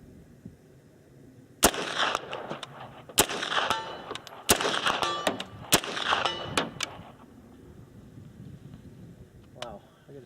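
Shots from a Zenith Z-5RS pistol-caliber rifle, an HK SP5 type, strike a steel target about 101 yards away. Each sharp crack is followed by a ringing metallic clang, several spaced hits in a row over background talk and outdoor noise.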